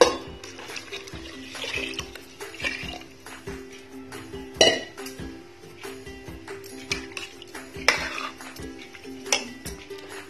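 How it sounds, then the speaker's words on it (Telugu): Water poured into soaked rice in a cooking pot for vegetable biryani, with clinks and clatter of utensils against the pot over a steady trickling wash, close and moderately loud. "ఒక గ్లాస్ రైస్కి 1½ గ్లాస్ వాటర్ పోసుకోవాలి"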